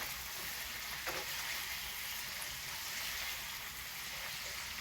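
Ampalaya and tender pressure-cooked meat sauté with soy sauce in a pan, giving a steady, close hiss of frying with no talk.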